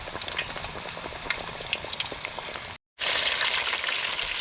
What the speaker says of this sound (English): They're frying up nice right now.